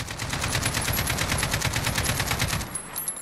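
Rapid full-auto bursts from an RPK-16 machine gun in Call of Duty Modern Warfare, a continuous, evenly spaced rattle of shots lasting about three seconds before it stops.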